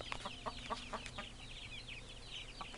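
Backyard hens at breakfast make a run of soft, quick clucks and chirpy calls, fairly close and moderately loud with brief pauses between.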